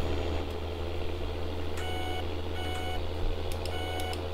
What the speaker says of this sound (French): Ah d'accord, c'est les clignotants.